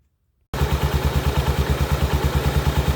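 A 2001 Arctic Cat 400 ATV engine starts up after an oil change and settles into a steady idle, loud and close, with an even, rhythmic thumping pulse after a brief silence.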